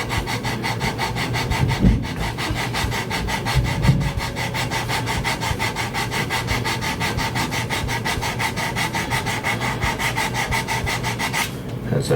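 Steady back-and-forth sanding on the wooden body of a home-built bass guitar, a continuous close abrasive rasp with even strokes running throughout, no voices.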